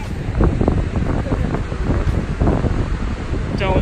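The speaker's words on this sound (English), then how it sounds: "So this is the bottom of the waterfall." Victoria Falls roars from the bottom of the gorge in the dry season, a loud, continuous rush of water and mist blended with buffeting wind noise on the microphone, with a brief voice near the end.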